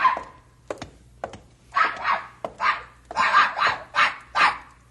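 A dog barks in a radio drama: a run of close, loud barks in a steady rhythm after a few soft thumps, with no talking over it.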